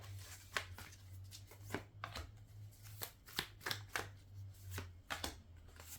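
Tarot cards shuffled by hand in a series of crisp riffling bursts and soft slaps, close and fairly quiet over a steady low hum, with no talking.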